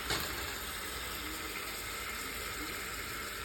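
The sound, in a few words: pasta water being poured into the pan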